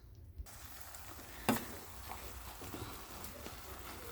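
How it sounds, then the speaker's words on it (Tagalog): Butter melting in a hot pan while being stirred gives a quiet, steady sizzle with soft scraping and one sharp clack partway through, with no talking. "lagyan natin ng isang buong butter. Tapos, haluin natin."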